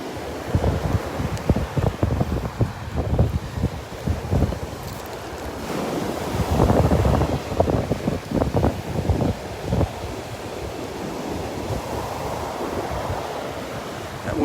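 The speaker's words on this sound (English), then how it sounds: "Wind is coming up behind me." Stiff wind buffets the microphone on Bowman's Beach on Sanibel Island, with waves and surf rolling steadily in the background, gusts swelling and easing throughout, no voices.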